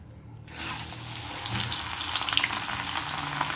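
Masala chana dal frying in hot oil, a steady broadband sizzle that swells loudly after a brief quiet start and keeps crackling close by with no voices.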